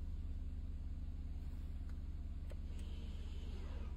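A car engine idles steadily while the vehicle is held on the brake and handbrake, a low even throbbing hum with faint clicks and a soft rustle near the end.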